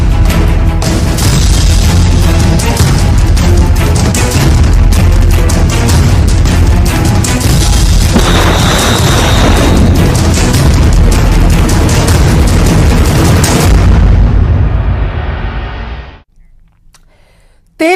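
Bomb blasts and explosions in Israel roar as a continuous loud, dense rumble with heavy low-end boom lasting many seconds, then cut abruptly to near silence.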